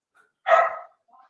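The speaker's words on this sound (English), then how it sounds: "I got my dog barking at somebody right now" A single sharp dog bark, close and loud, followed by a faint short yip against otherwise quiet surroundings.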